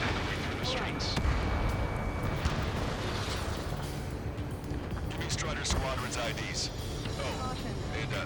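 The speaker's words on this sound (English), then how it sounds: "Gunfire and the roar of jets" Gunfire and jet roar in the combat flight game Ace Combat 7, set in a city under martial law: a dense, loud wash of engine roar with scattered sharp bursts and a voice speaking over it.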